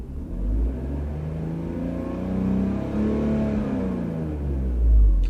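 A BMW E46 with a rich-running fault is revved, and the engine rumbles up from idle in a few swelling rises before settling. The car is close and loud, with no talk over it.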